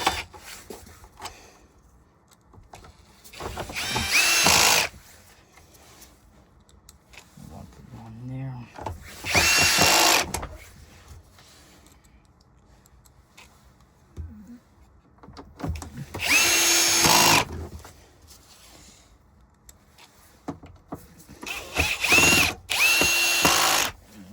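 A cordless power drill drives screws into the base plate of a Hoover Elite Rewind vacuum in four or five bursts of whirring, close by, separated by quiet pauses with faint handling noise.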